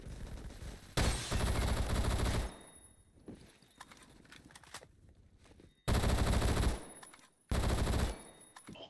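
Automatic gunfire from a beginner rifle in the video game Phantom Forces: three loud full-auto bursts, each lasting roughly one to one and a half seconds, separated by quieter gaps of in-game background sound, with no talking.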